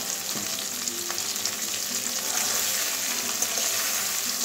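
Cut pieces of gaanthi kochu taro, tossed with a little turmeric, fry lightly in a pan, producing a dense, steady sizzle that swells slightly midway, with a few soft spoon clicks.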